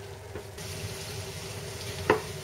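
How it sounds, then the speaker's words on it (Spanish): Onion caramelizing slowly in a pan over very low heat gives a steady, soft frying hiss with a few faint knocks of stirring, continuous and without voices. "Y la vamos a dejar que se vaya haciendo muy poco a poco a fuego muy lento."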